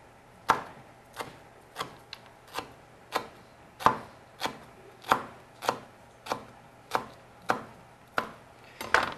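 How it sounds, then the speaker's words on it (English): A knife slices thinly through stacked, rolled-up basil leaves, giving about fifteen crisp, evenly spaced chops on a cutting board, close and clear with no talk. "you stack them and you roll them like a little tortilla like so. And then you just slice them really thin."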